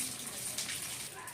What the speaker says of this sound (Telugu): కూరకు సరిపడా నీళ్ళు వేసుకునండి మూత పెట్టేసుకోవాలి